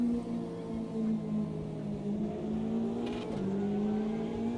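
A Chevrolet GTE race car engine in a sim racing game drones steadily at high revs, its pitch dipping and climbing slightly as it runs on without a break, loud and alone.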